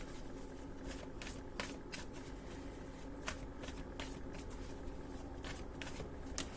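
A deck of playing cards being shuffled by hand at close range, a continuous dense riffling rustle with repeated sharp flicks and snaps, steady and fairly loud, with no voices.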